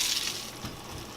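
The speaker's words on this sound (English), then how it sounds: "Now it's time to put these apples and bananas in the skillet and saute them." Butter sizzles in a skillet before apples and bananas go in to be sautéed, a steady close hiss that swells in a brief burst partway through.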